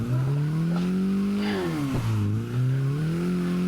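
A Mazda MX5 Miata drifts around CG Drift Park, its engine held at high revs in a steady loud drone that dips and climbs as the throttle is worked through the slide, close and continuous without any talk.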